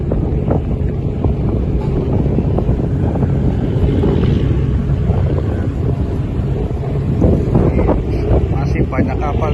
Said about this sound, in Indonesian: Cuacanya masih anginnya kencang, jadi susah buat pindahin kapalnya